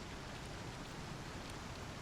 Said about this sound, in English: Rain on the ground.